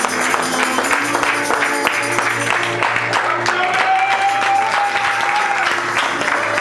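A church congregation at a Sunday worship service applauding the Lord, a loud, sustained wash of clapping from a crowd with faint tones running beneath it.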